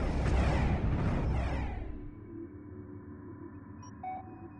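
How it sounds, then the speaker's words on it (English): A gravity distortion field forms in the space strategy game Homeworld: Emergence as a loud, rumbling whoosh that swells and then fades into a low electronic hum, with a couple of soft beeps near the end. "Gravity distortion field forming."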